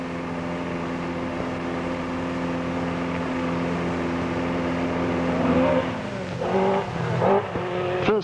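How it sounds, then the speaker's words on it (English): Rally cars from the 1976 Tour of Mull run a forest stage at Lettermore on the Isle of Mull, a steady engine drone that rises near the end as a car passes close with rising revs and tyre scrabble. "the cars make their way to the first 2 stages of the afternoon section, which are held in the forest of Lettermore"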